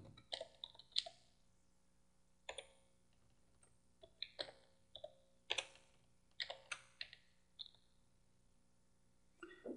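Computer keyboard typing during PLC programming: irregular bursts of crisp key clicks, some in quick runs and others single, close and fairly quiet over a steady low hum.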